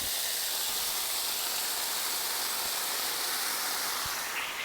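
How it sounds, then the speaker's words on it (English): Potatoes sizzle on a hot Blackstone griddle, a loud, steady, close hiss of frying that runs unbroken throughout. "Love to hear that sizzle."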